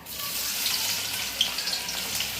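Onion fries in hot oil with bay leaves in a kadhai, giving a dense, continuous close sizzle with a few small pops.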